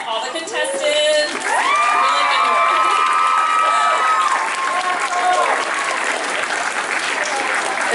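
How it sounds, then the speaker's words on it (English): A convention audience applauds contestants at YumaCon 2016. The clapping is loud and sustained, with cheering and whoops mixed in. A tonal, music-like sound rises over the crowd partway through. "let's give a round of applause to all the contestants"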